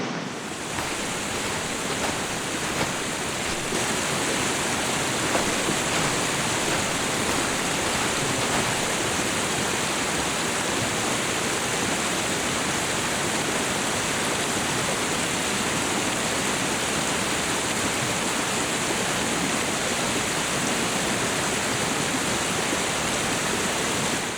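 A creek fed by two smaller creeks rushes through snowy mountains, a loud, steady, broadband roar of flowing water heard up close and alone throughout.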